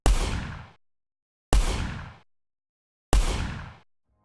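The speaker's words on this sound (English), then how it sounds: "the end result is a crisp and punchy gunshot" Three loud, crisp gunshots, designed video game sound effects, evenly spaced, each a sharp bang with a short decaying tail and silence between.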